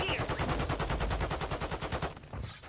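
Rapid automatic gunfire in a shooter video game, a fast, evenly spaced burst of loud shots that runs for about two seconds before cutting off, followed by a brief quieter shot.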